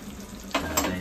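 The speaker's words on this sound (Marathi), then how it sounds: "किती 5 पीस टाकलेले आहेत तव्यावरती फ्राय करायला" Malvani-style surmai fish pieces sizzle on a hot tawa, a steady close frying hiss with two brief sharper bursts of spitting oil.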